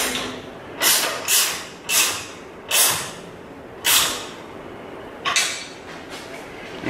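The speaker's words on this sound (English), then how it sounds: "I'm going to tighten the bolts on this side." Radiator mounting bolts being tightened by hand on a vehicle, a series of about seven sharp metallic ratchet-like bursts spaced roughly a second apart, close and fairly loud over a steady background hiss, no talk.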